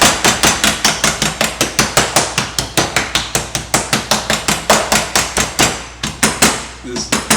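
Food being struck flat during French cooking, a loud close series of rapid, evenly spaced thwacks like a mallet pounding, keeping a steady rhythm with a brief stumble near the end.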